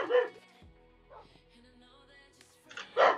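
A dog in the Minecraft video game barks in short bursts, one at the start, a softer yip mid-clip and a louder bark at the end, clear and close against a quiet background.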